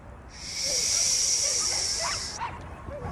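A dog yelps and whimpers during obedience training, a long high-pitched whine running for about two seconds, followed by a few short yips close by.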